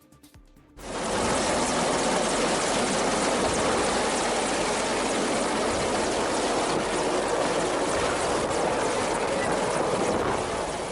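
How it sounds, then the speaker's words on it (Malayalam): A helicopter carrying the Indian president touches down at Pramadam ground in Pathanamthitta. Its rotor roar swells in after a second and holds as a loud, steady, close wash of noise. "രാഷ്ട്രപതി ദ്രൗപദി മുർമുവുമായി ഹെലികോപ്റ്റർ പത്തനംതിട്ട പ്രമാടം ഗ്രൗണ്ടിൽ ഇറങ്ങിയത്"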